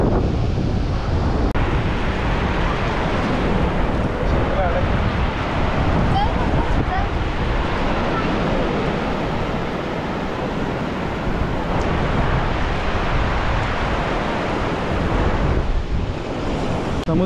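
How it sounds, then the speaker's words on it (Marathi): Sea waves surging against black rocks at Gavkhadi Beach in Rajapur, a constant roaring wash of surf with heavy wind buffeting the microphone, and people talking intermittently beneath it. "समुद्राच्या लाटा बघा इथे किती."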